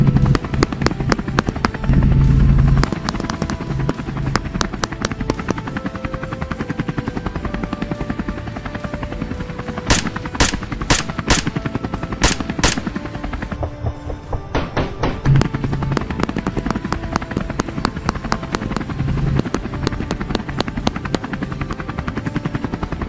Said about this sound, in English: The helicopter continued to circle